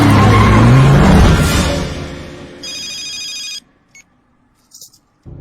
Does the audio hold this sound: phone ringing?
yes